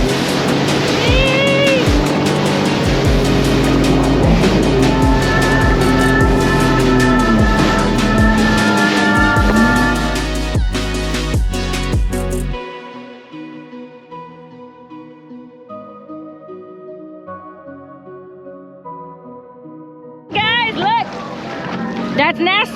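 Sea-Doo FishPro jet ski roaring across open water, a loud engine whine with shifting pitch and wind rush, which cuts off abruptly partway through, leaving a quiet stretch before a brief burst of noise returns.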